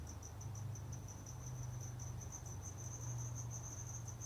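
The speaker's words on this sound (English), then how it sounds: "Crickets are trying to take over." Crickets chirping in a steady, continuous high trill, fairly faint, with a low hum underneath and no talking.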